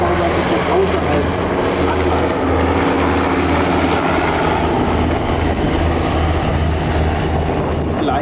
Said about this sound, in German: wie viel Abwind so ein Hubschrauber entwickeln kann